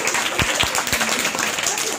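An audience claps for a child on a children's show, a burst of applause with a few distinct sharp claps, while a voice talks over it.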